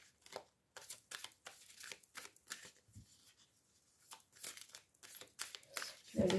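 Oracle cards are shuffled and handled close by in soft bursts of papery riffling, sliding and slapping, quiet and irregular, with a slightly louder clatter at the end and no talking.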